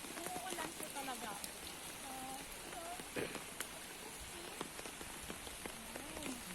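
Steady rain patters and drums on an open umbrella outdoors at Sungei Buloh, a dense, continuous wash with a voice talking over it.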